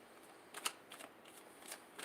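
Tarot cards being shuffled in quick riffling bursts, soft and close, with brief pauses between flurries and no talking.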